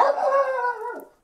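A pet dog gives one drawn-out, howling bark at close range. It sounds alone and ends with a short falling tail.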